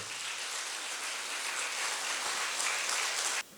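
A congregation at an ashram gathering claps together in welcome, a dense continuous hiss of many hands, steady and fairly loud, cutting off abruptly at the end.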